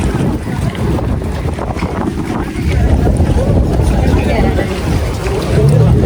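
Boat ride on open water near Sambranikodi island, a steady low rumble of engine and water with heavy wind buffeting the microphone, continuous and loud, with people talking over it.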